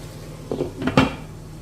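A cooking pot is set down in a kitchen while a mushroom sauce is being started, giving a couple of brief clinks and a heavier clunk of cookware close by, with no voices.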